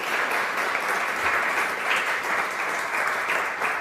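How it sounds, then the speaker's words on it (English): An art auction crowd greets a new young artist with steady, dense applause, many hands clapping at once close and loud throughout. "let's have a round of applause for our new artist"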